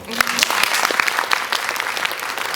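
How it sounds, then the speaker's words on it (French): A crowd claps steadily and fairly loudly throughout, dense continuous applause with no voices standing out. "rien que ça mérite les applaudissements."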